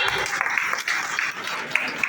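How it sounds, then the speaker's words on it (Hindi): A short burst of audience applause at a B.Ed college event in Patna, steady crowd clapping at moderate loudness with a few sharper claps standing out. "एक बार जोरदार तालियां"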